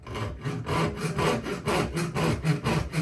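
A small handsaw cuts a straight line in rhythmic back-and-forth strokes, about two per second, close and steady with a rasping scrape on each pass.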